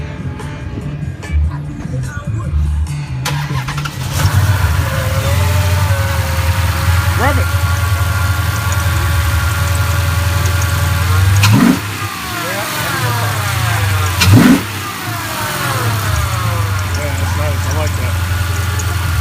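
A big 6.4 stroker engine rumbles at idle at a car show, then revs sharply twice with rising roars, with people talking nearby throughout.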